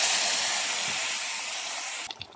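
Water splashed into a hot pan of spiced chicken biryani base with ground coriander and cumin sets off a strong, close hiss of steam that slowly fades, ending abruptly with a couple of faint clinks.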